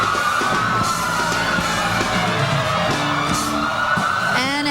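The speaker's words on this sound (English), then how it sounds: "Only this parade of parades could create the sound of sirens" Police motorcycle sirens wail and rise over a loud, busy crowd at the 2005 Macy's Thanksgiving Day Parade, with a steady high siren tone running throughout and a rising whoop near the end.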